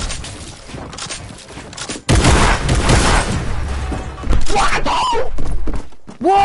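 Gunfire crackles in a Fortnite World Cup match, with bursts of loud, close shots and impacts arriving in clusters, rising sharply after a quiet stretch and mixed with game effects and voices talking over them.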